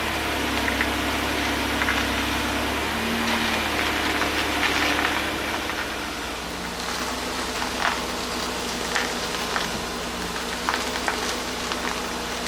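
A car engine idles steadily through a power steering flush, a low, even rumble with faint clicks and knocks over it and no talking.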